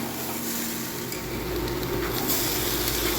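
Chopped tomatoes fry in spice masala with a little water for a prawn, potato and eggplant curry, giving a loud, steady, close hiss of sizzling with a faint stirring scrape and no voices.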